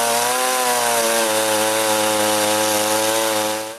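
A chainsaw cuts the top of a wooden rafter for a king-post roof truss, giving a loud, steady high-revving buzz throughout that tails off sharply at the end.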